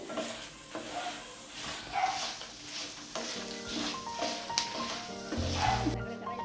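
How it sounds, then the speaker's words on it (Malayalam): Spices crackle and sizzle in a pan for a mushroom curry, with stirring scrapes and soft background music throughout. "ഇനി ഇത് നന്നായി ഫ്രൈ ആയാൽ"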